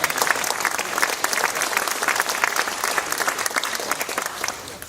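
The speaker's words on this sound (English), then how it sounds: "Round of applause for Alfred before he gets up" Dense, sustained applause from an audience at a cadet corps reunion, steady and loud throughout the clip, tapering slightly at the end.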